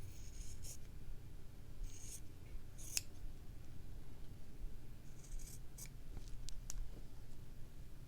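Scissors trimming fabric for a slow stitching piece, a few crisp snips and clicks spaced irregularly, close but quiet over a soft background hiss.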